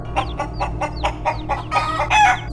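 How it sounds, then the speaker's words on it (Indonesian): Chickens cluck in a quick series of short calls, fairly close, ending in a louder burst of overlapping clucks over a low steady hum. "Semakin dekat, suara ayam terdengar semakin jelas."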